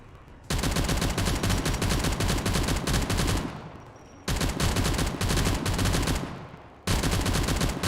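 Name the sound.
gunfire from a gun in video game Factorio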